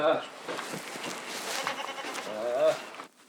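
Goats on a mountain farm in Gangwon-do in sub-zero weather, several close bleats rising and falling over about three seconds, with a loud cry near the end.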